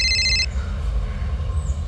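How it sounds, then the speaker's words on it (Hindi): A telephone rings briefly with a short electronic trill over a low, rumbling room background, then cuts off into a steady hum. "सर, प्रियंका का फोन।"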